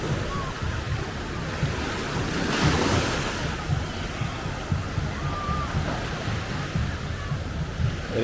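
Surf rolling onto Siesta Key Beach, Florida, in warm, clear blue Gulf water, a steady wash of waves with wind buffeting the microphone throughout and no clear voices.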